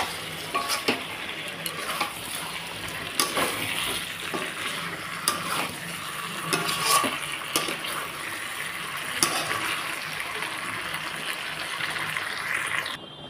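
Broth poured into a pan of braised broiler chicken curry, giving a soft, steady sizzle with scattered clinks and stirring taps from a utensil against the pan, close and moderately quiet throughout.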